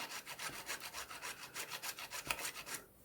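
Sandpaper rubbed back and forth on card in a quick, even series of close, raspy strokes, about a dozen in a row, with no talking before it stops.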